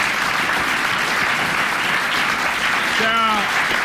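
Studio audience applause on a French radio panel show, a steady broadband wash of clapping throughout, loud and continuous, with a brief tonal voice-like sound near the end.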